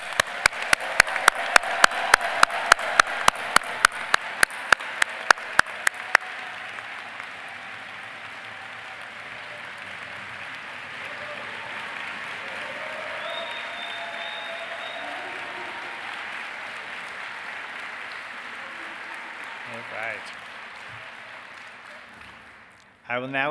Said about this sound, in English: let's have one more round of applause for all these new doctors